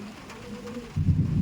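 Pigeons coo softly and low, a faint rolling call at close range, followed by a louder muffled rumble.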